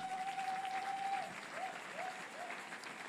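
A church congregation applauds in a steady, even patter that fills the room for about three seconds, with a faint sustained tone running underneath.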